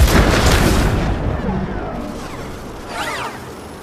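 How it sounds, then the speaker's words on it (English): EMP missiles fired in the Iron Man VR game: a loud boom opens, then a rumbling blast decays, and a brief whooshing sweep rises near the end. "Fire those EMP missiles!"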